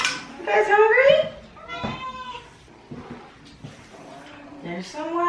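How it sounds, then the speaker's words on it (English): Several pet cats meow repeatedly and insistently at close range while waiting for wet cat food, with a person talking between the meows. "Here's your kitty cats."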